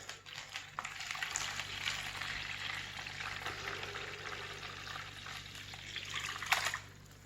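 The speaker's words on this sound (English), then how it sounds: "I'm just going to pour this in." Brine is poured into a container of raw chicken breasts, a close liquid trickle and splash lasting several seconds with a louder splash near the end, no talking.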